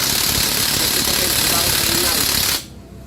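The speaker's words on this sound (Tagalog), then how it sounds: "Maingay yung kanyang gearbox." A loud, harsh mechanical whirring and rattling from the faulty, noisy gearbox of a running Rusi Royal motorcycle continues steadily, then cuts off abruptly near the end.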